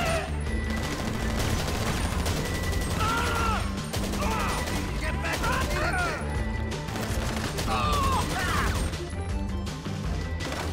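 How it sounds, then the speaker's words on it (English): Rapid bursts of gunfire from a GTA Online farm raid, steady volleys with crashes and mechanical clatter running throughout, with some voice-like sounds mixed in. "Keep running and shooting"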